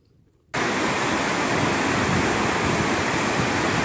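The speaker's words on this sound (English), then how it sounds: "So a much better shot of the falls today." Amicalola Falls waterfall roaring as a dense, steady wash of rushing water, starting abruptly after a brief quiet moment and staying loud and constant.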